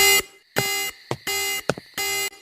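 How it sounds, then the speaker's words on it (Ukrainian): A loud electronic alarm in the video game Simple Sandbox 2 blares in repeated on-off bursts, with shorter chirps between the longer tones, harsh and buzzy. "А, стоп, це ж сигналізація."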